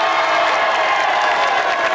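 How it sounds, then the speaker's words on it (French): A studio audience on a French television game show applauds and cheers for a team, dense and loud throughout. "Bravo, applaudissements pour les Blancs."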